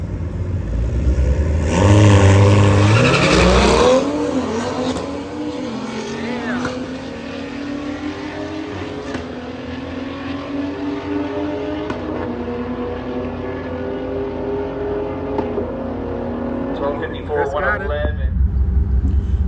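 A Holden Caprice V8 police-pack car races at Orlando Speed World, its engine roaring loud and close, revving hard and then holding a rising, sustained drone.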